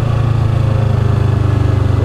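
A motorcycle engine running steadily at a fairly constant pace while riding along a gravel road, a loud, close, pulsing throb that holds unbroken throughout.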